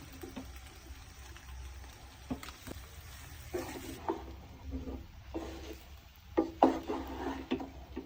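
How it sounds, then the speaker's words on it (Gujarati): Tawa pulao rice with cumin and pav bhaji masala being stirred and mixed in a pan, soft scraping and occasional clinks of the spoon against metal, close and intermittent under a faint background hiss. "આ રીતે બધું મિક્સ કરી દેવાનું છે."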